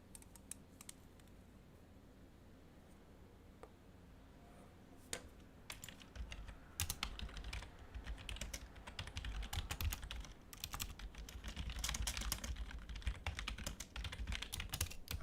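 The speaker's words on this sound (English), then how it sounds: "He's typing to me" Clattering keystrokes on a computer keyboard, sparse and quiet at first, then growing into dense, fast typing bursts that fill the latter half, heard alone without voices.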